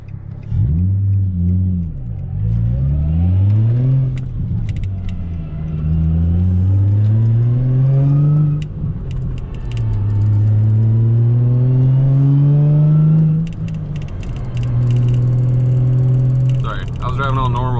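A Nissan 350Z accelerates hard and pulls away, its engine note climbing through several rising gear pulls with brief dips between shifts, loud and close throughout.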